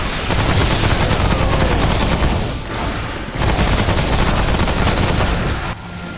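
Sustained rapid gunfire from a weapon shooting fire bullets in the co-op shooter Remnant from the Ashes, a loud continuous barrage with a brief lull midway and no voices.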